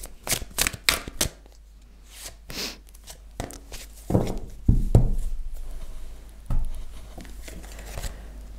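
Tarot cards being shuffled and the last card drawn, a run of quick papery riffles and soft slaps, then a few duller thuds and rustles as the card is placed, close by with no talk.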